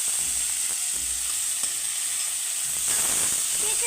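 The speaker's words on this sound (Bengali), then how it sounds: "করলা ভাজছে মা।" Bitter gourd frying in a home kitchen, a steady soft sizzle of oil with light stirring, heard close and fairly quiet, with no voices.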